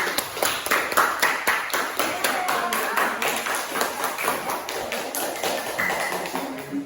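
A small group of students in a classroom claps in a steady, fairly quick rhythm for several seconds, close by, with faint voices mixed in.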